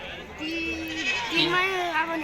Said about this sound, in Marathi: ही शेळी बघा, होंडी शेळी काय किमतीची गाभण आहे